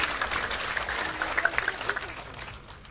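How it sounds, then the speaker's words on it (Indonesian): A church congregation claps together during a service, a fairly close burst of applause that swells briefly and then tapers off over a few seconds, with some voices mixed in. "Kita tepuk tangan sekali lagi untuk kemuliaan Tuhan."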